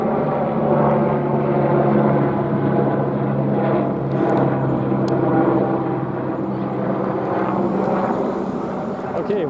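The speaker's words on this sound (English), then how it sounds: "you have a helicopter flying directly overhead" An LAPD helicopter flies directly overhead outside a Trader Joe's, its steady rotor and engine drone loud and continuous throughout, with a voice talking underneath.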